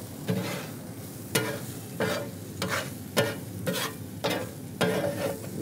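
A thin burrito filling cooks in a hot pan with a steady, soft sizzle, broken every second or so by a sharper stirring scrape, and no voice over it.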